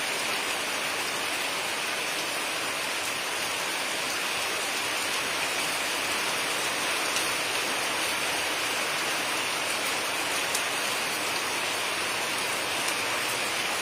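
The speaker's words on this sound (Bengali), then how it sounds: "ঝিরঝিরিয়ে বৃষ্টি হয়েছিল তারপরে মাঝারি কিন্তু বৃষ্টি শুরু হয়ে গেছে" Steady rain falls continuously at a moderate, even hiss, with no voices and little variation throughout.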